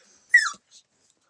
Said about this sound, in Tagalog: Yan ang aso guys ni Joel.